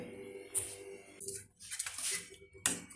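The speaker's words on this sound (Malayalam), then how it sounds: "നമുക്കിത് വീണ്ടും മിക്സ് ചെയ്യാം" A metal spoon scrapes and clinks against a bowl while mixing a spicy sandwich filling. Quiet, close, irregular taps and scrapes come in short bursts with no talking.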